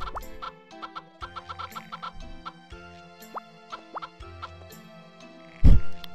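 A chicken clucks in a series of short, irregular calls at close range, mixed with light clatter, with one louder thump near the end.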